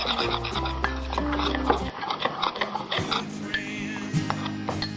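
A spoon stirring dry pizza dough ingredients inside a mug, light clinking and scraping strokes in irregular rhythm, close and fairly quiet, with background music and other sounds.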